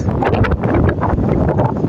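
Wind at a waterfall buffets a microphone, producing a loud, continuous rumbling roar with gusty surges throughout.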